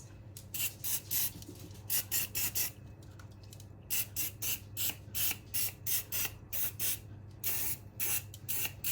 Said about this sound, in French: Je graisse les moules.